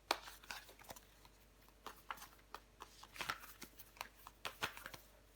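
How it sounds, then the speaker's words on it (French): Tarot cards handled and laid out on a table, a quick series of light slaps, snaps and shuffling flicks at irregular intervals, close and soft. "On va recouvrir des cartes."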